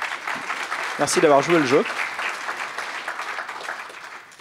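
A conference audience applauds two presenters with a steady bed of clapping throughout, while a voice speaks briefly over it near the start.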